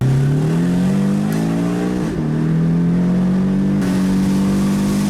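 A Porsche 718 Boxster mid-engine sports car revs and accelerates, its pitch climbing steadily, loud and close, with a brief shift partway through.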